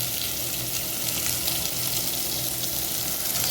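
Washed cabbage cooking in a pan gives off a continuous, even sizzle and hiss, close and steady throughout with no voices.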